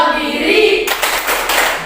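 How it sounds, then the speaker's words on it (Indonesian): A classroom of students claps for a group after its presentation, with a short burst of quick, close claps that begins abruptly partway through, following a moment of room noise. "tepuk tangan dulu untuk kelompoknya Chandra"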